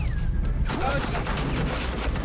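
Suppressing gunfire in Batman: The Enemy Within, a loud, dense fusillade of shots that fills the whole clip with continuous, sustained rattling.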